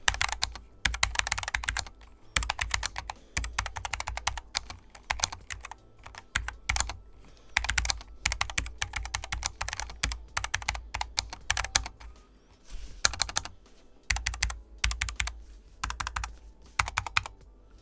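Steady, close typing on a Cooler Master 60% low-profile keyboard with linear red switches, 45-gram actuation and 3.2 mm travel: bursts of quick keystroke clicks in uneven rhythm, with brief pauses between runs.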